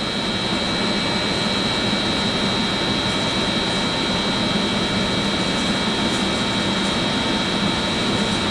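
Pump motor on a water park slide, restarted after winterization and overloading while turning backwards, gives a loud continuous droning hum with a steady whine, unchanging throughout.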